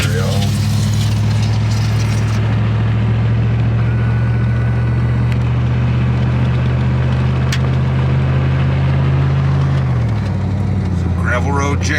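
Truck rolling along a gravel road, a loud steady engine drone with constant rumbling road noise inside the cab, the engine note dropping near the end while a voice talks over it.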